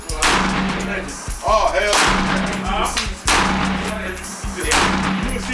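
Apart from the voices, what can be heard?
gunshots fired from guns at a shooting range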